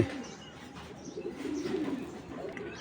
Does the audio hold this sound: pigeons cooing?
yes